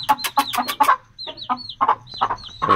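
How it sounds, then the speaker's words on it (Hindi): Golden Buff fancy chickens, a hen and rooster, cluck and squawk up close in a series of sharp, rapid calls with short pauses between them. "और ये होगी जी मुर्गी और ये हो गया मुर्गा।"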